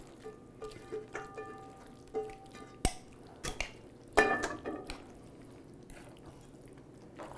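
Cooked onions and bacon grease are strained in an outdoor cowboy-style kitchen, with quiet drips and trickles, light metallic clinks of a pot and strainer, and a few sharper knocks over a faint background.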